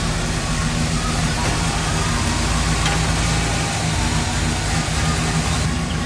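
A Chevrolet 350 engine in a 1966 Impala running at a steady idle, with a loud, close, continuous low rumble and a faint voice in the background.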